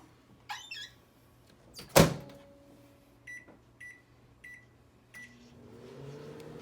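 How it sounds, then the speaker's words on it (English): A household microwave oven in a kitchen, heating peppermint bark, clunks shut and hums at a low steady drone, with a few short electronic beeps and small clicks and knocks close by. "you're going to put it in the microwave for about 20 seconds"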